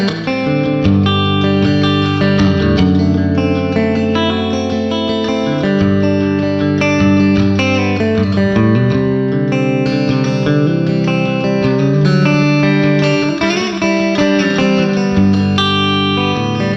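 Electric guitar through amp modeling software emulating a 1965-66 Fender Deluxe Reverb plays chords and melodic lines with a clean, reverb-washed tone, sustained and continuous throughout with no talking.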